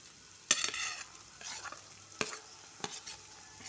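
Carrots and beans stirred in a hot pan, with a spoon scraping and clacking in several distinct strokes over a soft, steady sizzle of frying vegetables; no voices.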